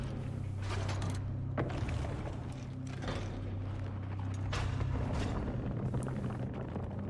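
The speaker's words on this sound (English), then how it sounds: "Well, we've powered up the machine." A machine powers up in the video game Scorn, a low rumbling mechanical drone with intermittent clanks and bursts of noise, fairly quiet and steady with no talk.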